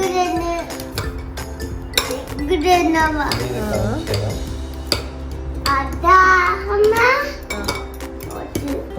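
A spoon clinks and scrapes against a dish while mashing banana with flattened rice, with repeated metallic taps close by and a voice talking over the clatter.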